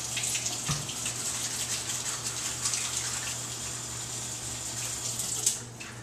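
Steady tap water runs into a sink for hand washing during chicken and asparagus salad prep, a continuous close hiss with a brief splash near the end.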